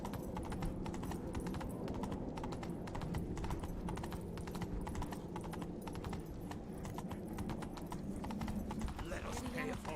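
Hooves clip-clop rapidly as a horse is ridden in a video game, a dense continuous patter under a steady bed of background sound, with a voice speaking over it.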